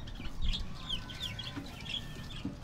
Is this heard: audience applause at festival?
no